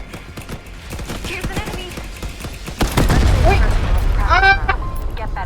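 A bomb explodes in the bomb-defusal video game Veiled Experts, a sudden loud burst partway through followed by sustained rumbling and crackling. Someone talks excitedly over it.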